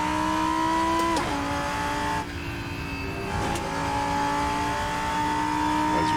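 A racing car engine roars loud and close in Assetto Corsa on the Slovakiaring circuit while chasing a Porsche, revving high and continuous with a brief dip in pitch around a gear shift or corner before climbing again.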